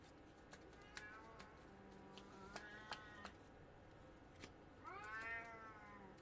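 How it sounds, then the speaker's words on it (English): Two pet cats yowl and scream at each other in a quiet indoor room, a series of drawn-out, rising meows and caterwauls with sharp short cries between them, growing louder into a long wavering wail near the end. "My cats are screaming at each other."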